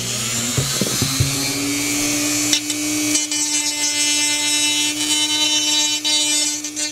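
Rotary tool fitted with an abrasive head grinding a turbojet part, a sustained high-pitched whine with a few brief bumps at the start, then steady, loud and close, alone without talk.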